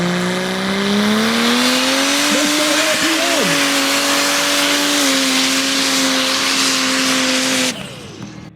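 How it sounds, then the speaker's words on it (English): A Suzuki Samurai with a TD engine screams at high revs during a mud drag run, a loud sustained whining engine note that wavers and briefly dips before cutting off abruptly near the end. "he's got the little Suzuki Samurai with a TD engine"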